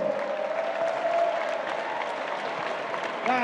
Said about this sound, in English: Oh, keep the applause going.